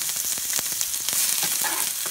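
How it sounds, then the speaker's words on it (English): Steady, close sizzling and crackling of onions frying in olive oil in a hot pan, continuous throughout with occasional louder pops. "We saute the onions for about like a minute."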